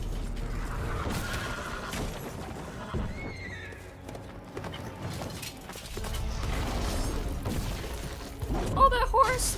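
A horse neighs and whinnies among clip-clopping hooves in The Witcher 3, with other game noises and a player talking over the action.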